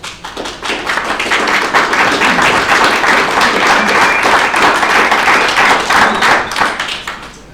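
Sustained audience applause at a community college district board workshop, dense steady clapping from a crowd lasting several seconds before fading slightly at the end.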